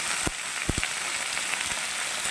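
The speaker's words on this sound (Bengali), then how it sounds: "এবারে সুন্দর করে লাল লাল করে ভেজে নেড়ে চেড়ে নেব" Egg and potato fry in a pan, a continuous bright hiss with a few soft knocks of a stirring utensil, close and even, with no voices.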